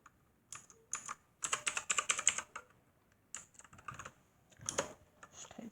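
A new keyboard is typed on in short bursts of quick, crisp key clicks, close and clear. Bursts are separated by brief pauses in a quiet room.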